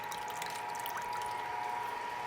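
Water circulating through a homebrew RIMS tube stand during a water test, pumped out of the mash tun: a steady, soft running and trickling wash with a faint constant tonal hum underneath, unbroken throughout.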